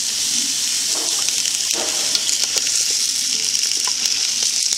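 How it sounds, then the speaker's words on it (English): Onions caramelizing over low heat in a wide pan, a steady close sizzle and hiss throughout, with occasional soft scrapes and knocks from stirring. "I've got onions in my big pan that I'm going to be caramelizing."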